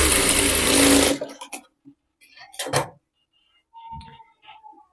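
A sewing machine runs a burst of double stitching on a blouse seam, loud and steady for about a second before it stops, followed by a few faint handling clicks and rustles.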